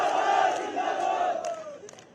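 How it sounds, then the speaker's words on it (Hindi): A rally crowd in Purola, Uttarakhand, chants a slogan in unison for Chief Minister Pushkar Dhami, a loud massed shout that swells and then trails off over about two seconds. "बोले पुष्कर धामी जिंदाबाद"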